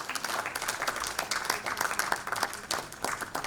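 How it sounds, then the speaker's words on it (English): An award ceremony crowd honouring iconic women in Sri Lanka gives brief, dense applause, with many hands clapping at once at a steady level. "give them a round of applause"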